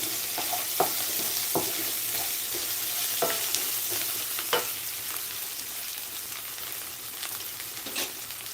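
Ridge gourd with moong dal sizzles loudly in a pan, a constant hiss with intermittent scraping stirs from a spatula every second or so, close and unaccompanied by speech.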